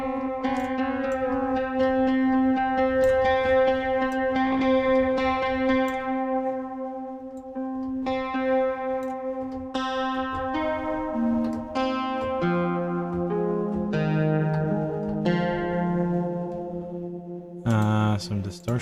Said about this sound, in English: Ooh, I got some chorus. Let's turn some of that on.